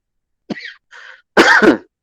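A man coughing in a class, three sharp bursts close to the microphone, the last the loudest and longest, with silence around them and no talk.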